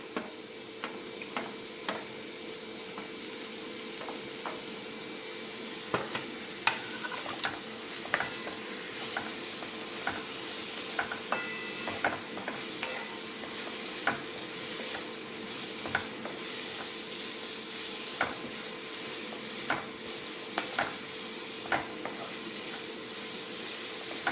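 Onions sautéing with green chilies and curry leaves in a pan for egg samosa filling: a continuous sizzle with regular light clicks and scrapes of a stirring spoon throughout.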